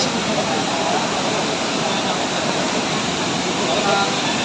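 Taytay Falls in Majayjay, Laguna, roaring as a dense, steady wash of falling water, loud and close with no break.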